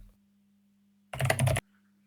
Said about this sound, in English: No, Alex, don't talk while you're typing, because it will come out on the edit